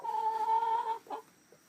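A hen lets out a drawn-out, tonal squawk followed by a couple of short clucks, close by and fairly quiet.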